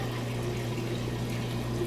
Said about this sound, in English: Then it'll fill back up with fresh water, agitate for a bit, drain out